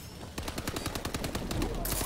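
Rapid automatic gunfire in a first-person shooter match, a fast stream of sharp cracks lasting about a second and a half, loud and close, followed by a brighter burst of noise at the end.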